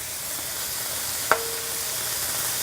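Steady, even sizzle of beef cooking in a hot pan, a continuous bright hiss throughout with one faint click partway through and no talking.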